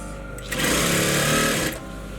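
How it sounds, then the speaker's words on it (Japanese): A sewing machine stitches a straight seam on a men's shirt in one loud, steady burst of about a second, starting and stopping abruptly. "縫っていきます。"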